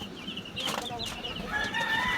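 Chicks and chickens on a small poultry farm, a few short clucks and high peeping calls close by over a low murmur of background noise.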